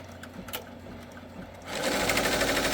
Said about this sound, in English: my hoop is just going to run these couple of stitches, and I'm going to push the button